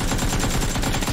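Gunshots ring out in the battle-royale video game PUBG, a quick, loud run of rapid-fire bursts filling the short moment.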